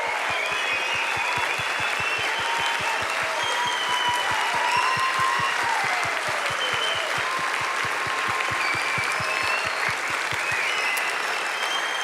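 A crowd at a Christmas show claps in sustained, even applause, with a steady rhythmic beat of clapping running through it, loud and full, and a few cheers mixed in.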